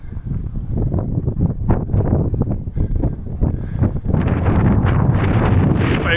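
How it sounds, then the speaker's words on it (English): Strong wind buffets the microphone on an exposed coastal clifftop along the Berwickshire coast in Scotland, a loud continuous roar of gusts that swells stronger toward the end. "it's very windy, so I'm going to continue on"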